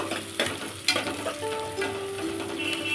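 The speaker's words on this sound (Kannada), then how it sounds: "ಸ್ವಲ್ಪ ಪುದೀನ ಫ್ರೈ ಆಗಲಿ" Chopped mint frying in a pan for soya chunks pulao makes a close, loud sizzle with sharp scraping stirs near the start, then a steady hiss carrying on alone without voices.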